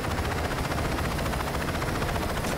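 A helicopter in the video game Saints Row 2 flies with a loud, dense, continuous rotor and engine roar that fills the whole moment without any voices.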